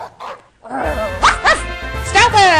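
Stoutland's dog-like cry from the video game Pokemon White: a brief pause, then a loud, close run of barking, yelping calls that rise and fall in pitch, each note strongly tonal.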